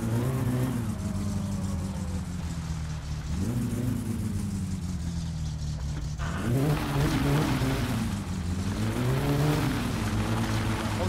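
In My Summer Car, a car engine drones steadily throughout, rising in pitch as it revs up around the middle, with a rough, throaty exhaust tone and no talking.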